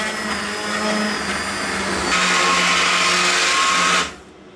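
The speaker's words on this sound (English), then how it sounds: "you can either blend the soup with a handheld blender or a liquefier" A handheld blender whirs steadily through leek and potato soup, its motor pitch rising partway through before cutting off abruptly near the end, close and loud with no talk.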